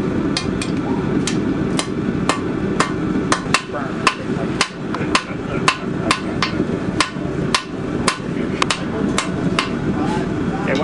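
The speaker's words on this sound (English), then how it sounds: "Hammer this down basically the shape of a knife." Sharp metallic hammer strikes on hot steel being forged into a knife shape ring out in an irregular but steady rhythm, close and loud, blow after blow.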